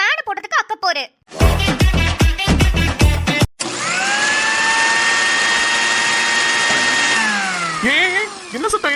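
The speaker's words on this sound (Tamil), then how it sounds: "என்னடி மிக்ஸி போட்டு அரைச்சிட்டு இருக்க?" A kitchen mixer grinder grinding masala for fish curry runs as a loud, steady whine for several seconds, with speech and clattering before it and a voice as the motor winds down.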